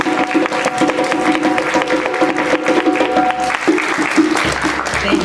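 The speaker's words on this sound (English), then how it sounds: "give a special applause for my mom" Audience applause honoring the performer's mother at a dance program, a sustained, fairly close burst of many hands clapping with scattered crowd voices mixed in.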